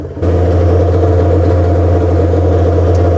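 Snowmobile engine idling at a steady RPM, a loud, even low hum with a strong constant drone, kicking in just after a brief quieter moment at the start.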